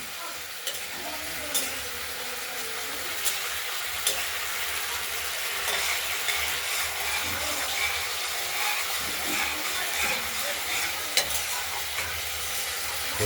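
Spice paste for a rohu fish curry sautés in a pan with a steady, moderately loud sizzle and frying crackle, while scattered stirring scrapes and small clicks run through the whole stretch with no talking.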